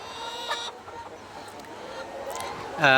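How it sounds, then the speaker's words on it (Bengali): A rooster on a poultry farm crows loudly and close by at the very end, after a stretch of faint background noise with a few soft clucks and distant sounds. "এই যে আমাদের খামারের একমাত্র মোরগ"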